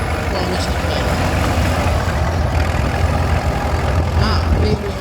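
A vintage straight petrol tractor engine runs steadily at a steam rally, its low idling chug continuous and fairly close, with crowd and outdoor noise mixed in.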